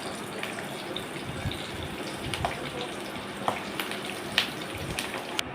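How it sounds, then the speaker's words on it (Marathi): Green chillies fry in hot oil alongside a vada pav and bhaji batch, a continuous close bubbling crackle with scattered small pops and faint clicks, no speech over it. "मी मिरच्या पण इथे सोडून घेतलेल्या आहेत तेलामध्ये"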